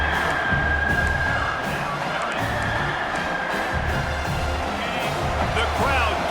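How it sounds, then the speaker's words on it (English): A stadium crowd in the College Football 26 video game roars and cheers as a defense tries for a red-zone stop, heard as a constant wash of crowd noise under a commentator's voice. "The crowd getting behind this defense as they try to get a stop in the red zone"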